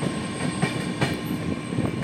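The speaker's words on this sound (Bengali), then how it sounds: "9:16 নাগাদ train Jatinga Lumpur station cross করল।" A train rolls through Jatinga Lampur station on the Guwahati–Agartala line without stopping. The rumble is loud and continuous, with rhythmic clickety-clack wheel beats on the rails and no voices.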